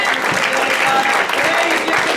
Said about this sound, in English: get a Lord a hand clap of praise.